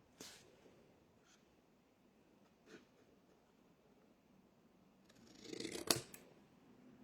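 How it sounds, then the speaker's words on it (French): Scissors cut card for a handmade photo box, a few quiet isolated snips early on, then a louder cluster of close cutting strokes near the end, in an otherwise hushed room. "Et là, on coupe."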